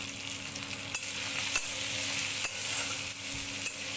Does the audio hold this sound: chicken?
no